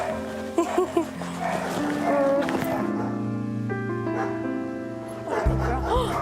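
A senior female dog gives short barks and whimpering yelps close by, mixed with harmonic whines over a steady background hum, and people can be heard talking around it.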